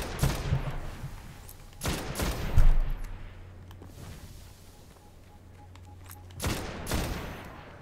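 Vision of Confluence scout rifle firing in the video game Destiny: loud bursts of gunfire at about 0, 2, 2.6 and 6.5 seconds, each with a sharp crack and a rumbling tail, separated by quieter ambient game noise.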